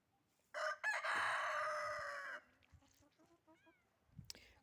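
A rooster crows loudly and close by in one long drawn-out call, followed by softer clucking and chirping from chickens.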